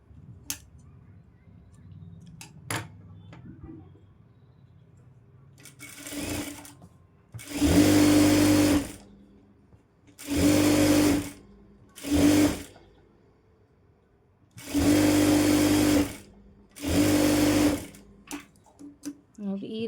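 A sewing machine stitches the back piece of a blouse in five or six separate bursts of steady mechanical whirring, each a few seconds long, with quiet pauses and faint handling noise between them.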